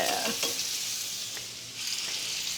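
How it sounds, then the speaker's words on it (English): Butter hits a hot, oiled pan and sizzles in a brisk, crackling hiss that swells and settles over a couple of seconds, close and alone. "Now I'm gonna put butter in here."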